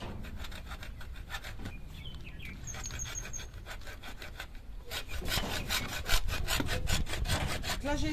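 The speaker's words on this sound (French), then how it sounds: "Là j'ai essayé la petite scie à métaux à main" A small hand hacksaw cuts through a pipe with steady back-and-forth rasping strokes, close and continuous, growing slightly louder toward the end.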